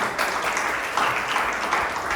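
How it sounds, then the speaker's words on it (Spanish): A church congregation applauding steadily during a communion service, a dense wash of clapping that holds at an even level throughout with no voices on top. "Denle un aplauso al Señor."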